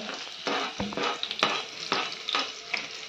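Onion goes into hot oil with garlic for a pasta dish, crackling and sizzling loudly up close while a utensil stirs and scrapes the pan in repeated strokes.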